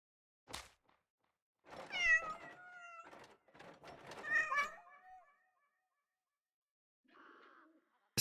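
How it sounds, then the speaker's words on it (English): A cat meows a few times in a video game setting, with drawn-out, echoing calls clustered together and a faint softer call a moment later. "Is your meows echoing up here, cat?"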